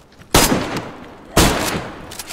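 Shotgun fire in the video game DayZ, two loud close blasts about a second apart, each with a sharp onset and a decaying boom.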